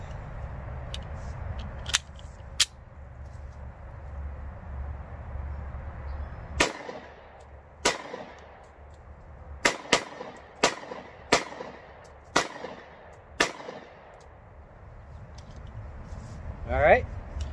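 Bersa BP9CC 9mm-style pistol fired at a range, about a dozen sharp, loud reports spaced irregularly over steady outdoor background noise.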